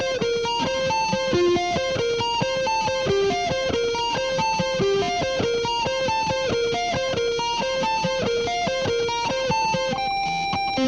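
An intro lick is played on guitar as a steady, repeating run of ringing single notes with light distortion, clear and continuous throughout with no voice.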